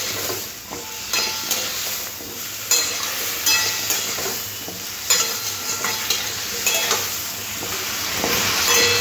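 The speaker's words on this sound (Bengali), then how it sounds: "নিয়ে ভালো করে একটু ভাজা ভাজা করে নিতে হবে" Diced bottle gourd cubes are stir-fried in a pan, a steady, close sizzle broken by repeated scraping and tossing strokes at an uneven rhythm over several seconds, with no one speaking.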